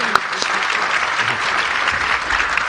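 Applause from a news conference audience fills the room, a dense, steady wash of clapping, loud and close, with no break throughout.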